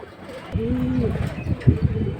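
Domestic pigeons of several color varieties, including silver, khaki and military types, give a short cooing call at a bird market, with a couple of deeper coos near the end. Background chatter and ambient noise sit underneath.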